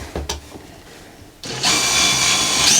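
A few faint clicks and handling noises, then a power drill whirs up to a steady, loud high-pitched spin for the remaining second.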